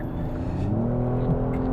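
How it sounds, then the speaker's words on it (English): A 2021 Kia Stinger 3.3 GT V6 accelerating on light throttle, a smooth, steady engine hum rising gently in pitch from inside the cabin. "just a little bit of throttle. I'm not even at full throttle and the car really just picks up"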